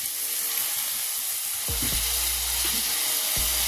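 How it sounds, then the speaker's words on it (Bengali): Crab masala sizzles and fries steadily in a pan as a little water goes in, a broad, even hiss with a few low bumps and thuds partway through. "অল্প একটু জল দিলাম"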